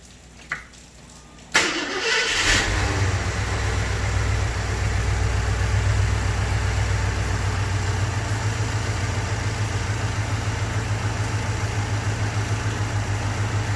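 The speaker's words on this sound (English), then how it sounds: "it's a brand new engine, so it's a little slow to start sometimes" The hot, brand-new engine of a 1986 Jeep Grand Wagoneer cranks briefly, catches with a sharp burst, then settles into a steady, close, low rumbling idle that runs on evenly.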